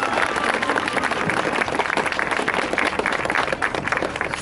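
Crowd applause at a Tour of Japan cycling stage ceremony in Mino, continuous and fairly loud, a broad wash of many hands clapping for the whole stretch without talk.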